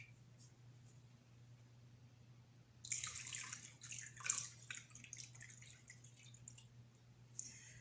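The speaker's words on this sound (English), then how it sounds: "with lots of nice fresh running water, you go ahead and rinse your hands" Hands are rinsed and splashed in a bucket of water, with a burst of sloshing and dripping in the middle of an otherwise quiet stretch, close and fairly soft.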